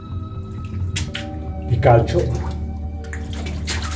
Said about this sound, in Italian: Guardate qui la goccia dell'acqua.